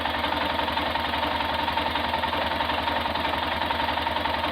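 An Arctic Cat ATV engine runs close by with a steady, rapid mechanical chugging and knocking at an even level. It is heard alone, with no voices.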